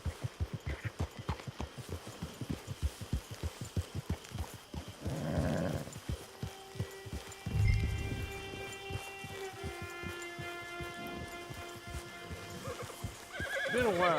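A horse in the Red Dead Redemption 2 game clip-clops along in a steady hoof rhythm, then lets out a loud, drawn-out neigh and whinny, with a second shorter whinny near the end.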